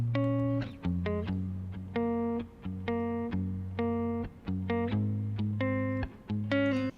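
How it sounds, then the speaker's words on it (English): Clean guitar sample from an Echo Soundworks sample pack plays a rhythmic pattern of short plucked chords and notes, clear and close with distinct attacks, heard alone with no talking. "here's a guitar from an Echo Soundworks sample pack"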